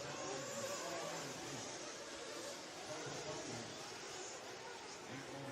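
RC karts race around an indoor track at a championship final, a steady dense whine of small electric motors blending with crowd chatter and commentary throughout.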